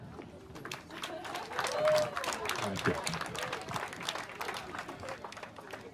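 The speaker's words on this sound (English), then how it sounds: "Please help me with a warm round of applause for the parents of the bride" Wedding reception guests give a warm round of applause for the bride's parents, a dense crowd of clapping that stays steady throughout, with a voice briefly speaking over it.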